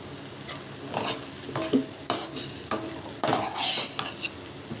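Semiya upma being stirred in a pan with a spoon, producing irregular scraping strokes over a soft sizzle, fairly close and with no talking.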